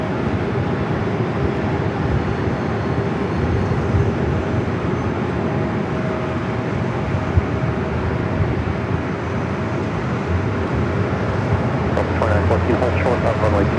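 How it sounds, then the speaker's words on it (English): An Avianca Airbus A330 taking off from runway 24 Left at LAX makes a sustained, broad jet roar that holds steady throughout, heard from a distance with faint voices underneath. "Avianca A330 and finally heading over there to 24 left. Now we're going to fly away."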